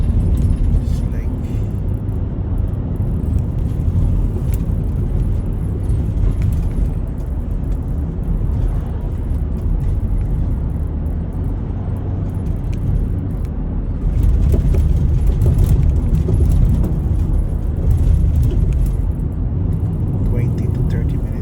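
A car drives along a road in Canada, its steady low engine and tire rumble continuing throughout from inside the cabin while a person talks over it.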